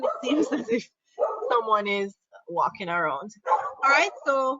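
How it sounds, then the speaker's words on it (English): A dog barks and yips in the background while a person talks over it, the short yaps mixed in and partly masked by the steady speech. "I apologize if you hear my dog is barking in the background."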